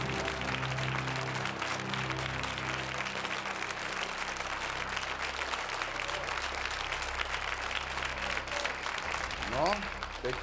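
Studio audience on a Czech quiz show breaks into long, dense, sustained applause, close and loud throughout, with a voice briefly rising near the end.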